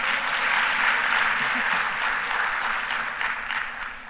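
Sustained audience applause at a 2024 renewable energy conference and expo, a dense even wash of clapping that tapers slightly toward the end.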